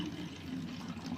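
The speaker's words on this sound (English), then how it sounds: "Now first of all we may add water in this." Water pours into a glass separating funnel in a chemistry demonstration of immiscible liquids, a soft continuous splashing fill that stays faint and close.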